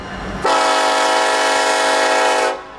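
A locomotive horn on a CSX unit grain train pulled by BNSF engines blasts once, loud and steady, for about two seconds over low rumbling rail noise near Tampa. There is no talking.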